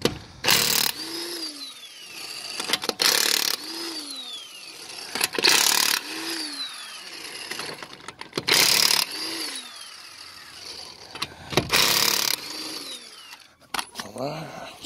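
Lug nuts coming off a 2015 Chevrolet Malibu wheel with a power impact tool: five loud, separate bursts of whirring and rattling hammering, each with a rising whine, between quieter pauses.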